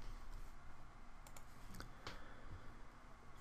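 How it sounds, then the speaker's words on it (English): Keys on a computer keyboard are tapped at an uneven pace, producing sparse, soft clicks that stay faint against a low background hiss. "I'm just typing the letters A through I, and I'm separating them with ampersands."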